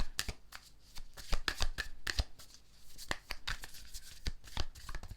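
Tarot cards being shuffled by hand, a rapid series of sharp riffling flicks and soft slaps in uneven bursts, close and fairly quiet.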